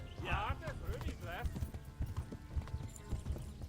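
Rhythmic clip-clop of horse hooves in the video game Kingdom Come: Deliverance, under a horse's whinny near the start, with the steady hoofbeats continuing throughout.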